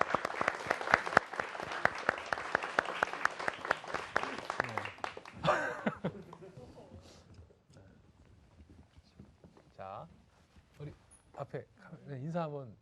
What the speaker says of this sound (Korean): 박수로 좀 모시겠습니다.